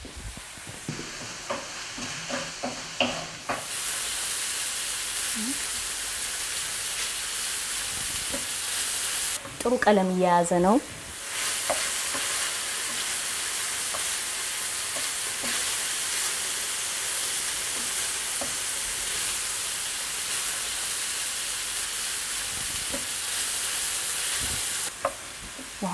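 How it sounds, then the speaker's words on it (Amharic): Meat for Ethiopian tibs sizzles in a pan, a steady close hiss that carries on throughout. Brief stirring clatters come near the start, and a short spoken comment cuts in partway. "ስጋው መጥበሻ ላይ ያደረኩት ስጋ በጥሩ ሁኔታ መብሰሉን እናይና"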